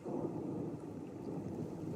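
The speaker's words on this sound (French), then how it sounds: "Et l'orage vient également comme un somnifère" A thunderstorm rumbles faintly and steadily in the background, a low dull roar with a soft wash of rain or wind and no distinct claps.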